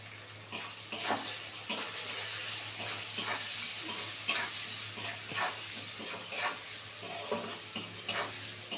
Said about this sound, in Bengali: ডিমটা ভালো করে লাল করে ভাজা হবে